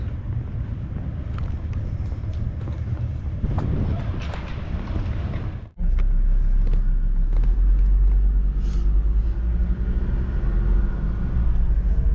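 A car towing a caravan drives along, its engine and road noise a steady loud rumble with wind buffeting the microphone, continuing unbroken after a brief dip.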